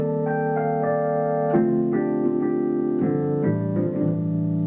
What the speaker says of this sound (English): you can just add a little bit of that, and it gives it just a tiny bit of variation